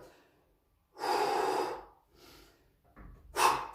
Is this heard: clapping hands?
no